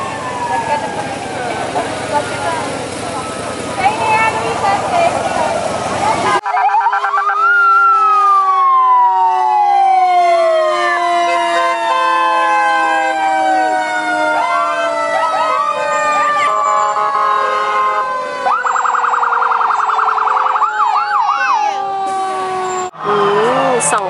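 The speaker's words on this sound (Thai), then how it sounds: "อันนี้รถตำรวจว้าว" Police car sirens wail in a Fourth of July parade, loud rising and falling sweeps that overlap and shift, with bursts of horn-like tones, under occasional talk nearby.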